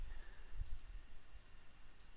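A few faint, sparse key clicks on a computer keyboard pressing copy and paste shortcuts while working in a spreadsheet, soft and set against steady low background hiss.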